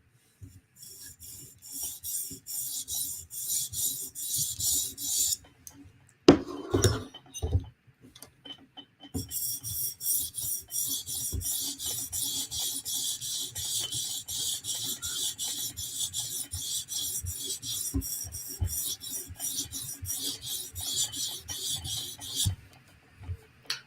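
Steady rhythmic rasping strokes of a Chris Reeve Sebenza knife blade drawn across a stone on a TSProf guided sharpener, close and repetitive, with a brief pause and some handling clatter partway through.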